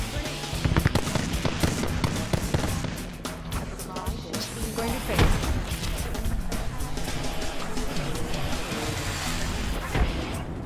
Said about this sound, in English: They just keep throwing grenades at me.